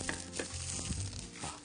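Brazilian beef tenderloin pan-frying, with a steady close sizzle and spatter, plus light scraping and stirring clatter through the short stretch.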